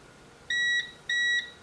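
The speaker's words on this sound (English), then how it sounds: "And then it'll start beeping like that" Amazon Basics Standby UPS 400VA battery backup sounding its power-loss alarm after being unplugged: two identical high electronic beeps, each about a third of a second long, evenly spaced and clear against a quiet room.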